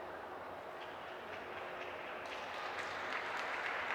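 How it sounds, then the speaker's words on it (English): Crowd at an ITTF World Tour Grand Finals table tennis match in Bangkok, steady distant applause and cheering that swells slightly toward the end, with no voices standing out. "Crowd giving some encouragement to SUH."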